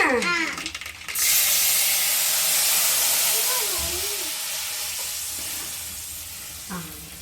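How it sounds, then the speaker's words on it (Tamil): Tamarind water poured into hot oil with spluttered mustard seeds for puliyodarai, erupting into a loud, steady sizzle and hiss that slowly settles, with brief stirring clatter near the start and end. "இப்போ நம்ம எண்ணெய் பாரு, கடுகு பொரிஞ்சுட்டா கரைச்சி வச்சு புளியை விட்டுக்கலாமா?"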